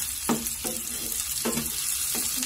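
Onion and garlic sauté in hot oil for a ribs dish, giving a steady close sizzle with a few brief louder bursts of stirring or spatula scrapes, and no voices.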